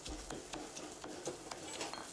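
Ingredients are pounded in a bowl for an Indian dish, a quiet, steady series of soft thuds and clinks repeating about every quarter second, heard close and alone.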